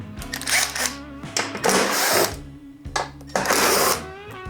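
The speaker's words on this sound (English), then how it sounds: "take off the two smaller screws" A power screwdriver or drill backs two small screws out of a Husqvarna self-propelled lawn mower cover, whirring in repeated short bursts with brief pauses, close and fairly loud.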